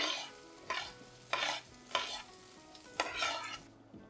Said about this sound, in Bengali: সমস্ত সবজিগুলো ভালোভাবে ভেজে নেব